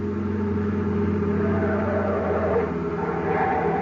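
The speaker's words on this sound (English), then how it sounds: "car coming up that highway now" Car engine droning steadily at speed along a highway, a continuous low hum with a slight rise, a radio drama sound effect with no talking.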